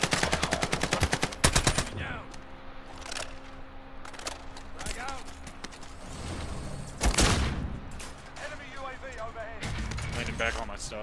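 Rapid bursts of video-game gunfire rattle off in loud, dense volleys at the start, then scattered shots and a heavier blast around the middle while players talk over the action.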